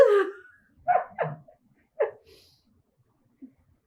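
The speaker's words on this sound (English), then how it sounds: "Doggy's making a lot of sound." A dog barks several times nearby: an opening yelp, then a quick pair of barks, another single bark, and a faint last one.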